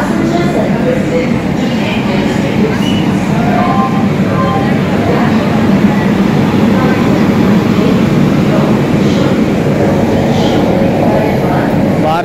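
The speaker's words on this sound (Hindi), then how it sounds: "देखो ट्रेन भी आ गई।" A train pulls into a crowded railway station with a loud, continuous rumbling roar, and the busy platform's background bustle blends into the steady din throughout.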